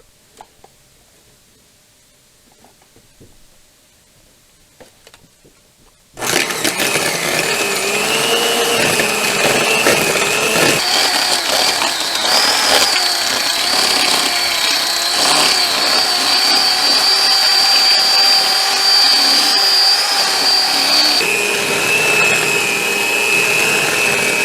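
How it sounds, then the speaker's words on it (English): Electric hand mixer beating sugar into cream cheese for lemon cheesecake bars, switching on after a quiet start and then running as a loud, steady whir whose pitch shifts slightly as the batter thickens. "we are going to use the electric mixer to mix this until smooth"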